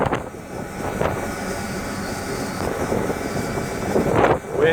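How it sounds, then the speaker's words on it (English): Strong wind of about 30 knots buffets an anchored vessel at sea in bad weather, a steady close rumbling roar with surging gusts that swell louder near the end. "Wind now is 30 knots. Very strong."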